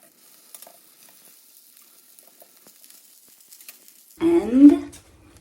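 Rice paper rolls crisp in a frying pan, a quiet stretch giving way to a sudden loud sizzle and spatter of hot oil near the end.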